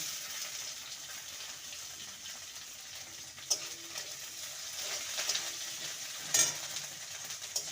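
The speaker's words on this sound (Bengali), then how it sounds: "আদাটাকে ভালো মতন কষিয়ে নেব আর একটা দিয়ে দেবো মিডিয়াম সাইজের টমেটো কুচি" Ginger paste and chopped tomato sautéing and being stirred in a pan, a soft steady sizzle with occasional louder scrapes and stirring clatters, faint and close, with no voices.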